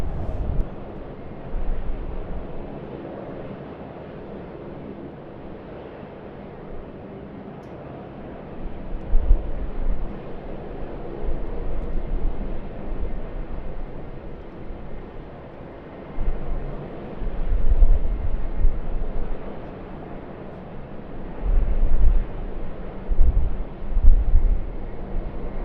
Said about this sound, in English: Also just now coming out to play is a Capital Airlines Airbus A330-200.